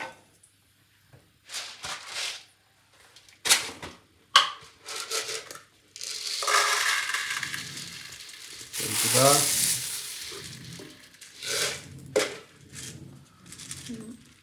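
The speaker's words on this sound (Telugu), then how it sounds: "సో కొంచెం సిమ్లో పెట్టుకొని ఫ్రై చేసుకుందాం" Dried red chillies fry on a low flame for a homemade curry leaf and moringa powder, a sizzle that swells and holds in the middle, surrounded by sharp clattering bursts of stirring and handling.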